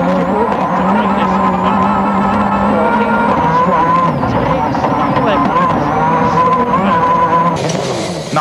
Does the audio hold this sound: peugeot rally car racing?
yes